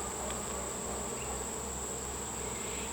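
Honeybees buzzing around an open hive during an inspection, with frames of pollen, capped syrup and brood, a steady dense drone filling the whole clip alongside a thin constant high whine, no talking.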